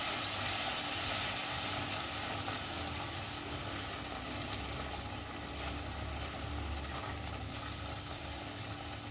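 Masala paste for prawn posto, made with Kashmiri chilli powder and a little water, frying in a pan: a steady, loud sizzle that runs unbroken with no talk over it.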